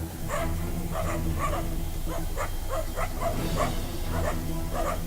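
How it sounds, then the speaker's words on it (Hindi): Street dogs bark at lions wandering a city street at night, a run of repeated yips and barks at moderate distance, spaced irregularly over a constant low rumbling background. "शहर में अनजान मेहमानों को देखकर रात के पहरेदार यानी कुत्ते भी शेरों पर भौंकने लगे।"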